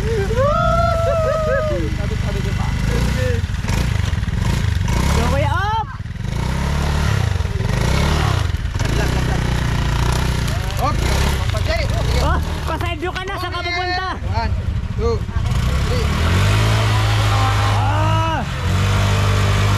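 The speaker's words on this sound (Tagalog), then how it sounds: "Napalaban yung motor niya." A motorcycle engine revs and strains repeatedly on a climb through overgrown vegetation, rising and falling pitch close by, with excited voices talking and shouting over it throughout.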